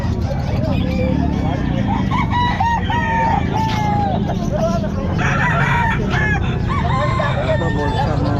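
Young rooster (stag) crowing at the Calumpit pet market, repeated crows cutting through a busy, noisy market din with people talking nearby.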